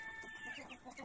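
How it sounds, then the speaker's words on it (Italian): A Marans rooster in a henhouse gives a few quick, soft clucks at moderate distance. "abbiamo Gastone, eccolo qua, gallo Marans."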